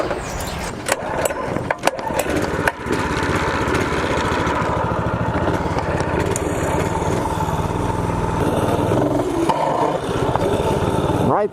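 A small minibike engine revs hard and holds a loud, steady buzzing drone as the bike pulls up into a wheelie. A few clunks and thumps come early, and the motor stays close throughout.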